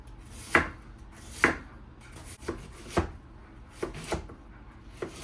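An onion being sliced very thin, giving about nine crisp knife strokes against a board at an uneven pace, close and alone with no speech.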